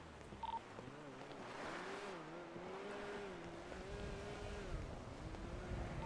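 A Volkswagen Beetle (Fusca) in a video game drives along with a low, wavering engine drone that rises and falls in pitch, steady and moderately close under faint wind-like noise.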